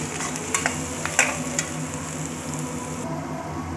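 Crushed garlic sizzles steadily in a hot pan of oil, a continuous close frying hiss broken by a few soft stirring taps.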